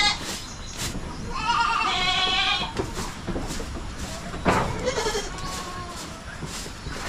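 Hornless native goats bleat on a farm, several wavering cries spread across the span at moderate distance over rustling background noise, with a short voice now and then.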